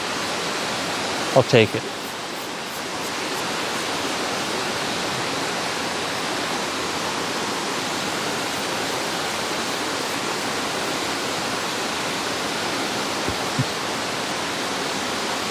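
Water runs steadily from a tap while a shaving brush is rinsed, a constant, close hiss of flowing water filling the whole stretch, with a brief voice and a couple of small clunks early on.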